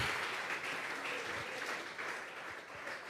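A church congregation breaks into steady, sustained applause, a dense wash of clapping that fills the room moderately loud for several seconds with no voice over it.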